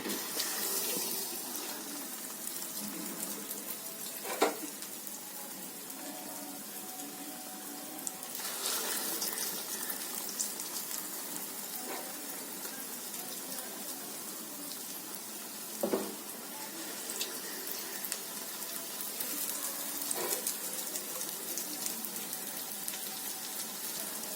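Carrot halwa purnalu, sweet stuffed dumplings, fry in a batch of hot oil with a steady, close sizzle and a few brief louder pops, and no one speaks over it.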